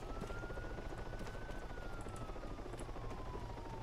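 Helicopter in Arma 3 Altis Life: a steady rotor and engine drone with a slowly shifting whine, heard at a distance without talk.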